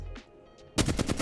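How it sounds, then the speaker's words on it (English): A burst of automatic fire from the Flatline rifle in Apex Legends, five or six rapid loud shots in quick succession following a brief quiet lull, close and punchy with no voices. "the flatline is just an extremely unruly gun"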